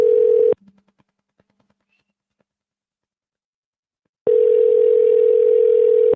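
Phone dialer software on live real estate prospecting calls: a loud steady dial tone for half a second, a few faint scattered dialing blips through near-silence, then the steady tone returning loud for the last two seconds.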